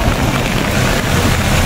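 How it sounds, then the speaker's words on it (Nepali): Steady rain falls in Kathmandu, a dense, even hiss that holds at the same level for the whole moment, with no voices and no breaks. "पानी पर्दैछ"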